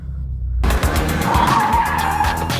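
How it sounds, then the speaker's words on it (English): A 2023 Subaru WRX engine revs up sharply after a brief pause and holds a loud, rough, lawnmower-like drone with tire noise, close by. "The engine still sounds like a giant lawnmower."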